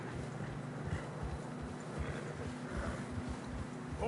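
Horse hooves plodding through deep fresh snow on a narrow trail in Red Dead, a quiet, regular muffled clopping under a low steady background hum, with no talking.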